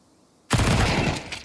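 Gunfire in a Counter-Strike 2 esports match, with a loud burst starting abruptly partway through and rattling on as dense rapid shots to the end, with no talk.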